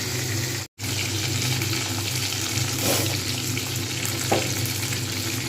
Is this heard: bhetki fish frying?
yes